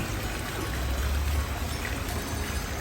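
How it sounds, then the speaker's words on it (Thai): Continuous rushing and splashing of water falling at an artificial waterfall in a landscaped garden, a steady broadband wash at moderate level with no talk. "ท่านก็จะได้ชมน้ำตก ที่เนรมิตขึ้น"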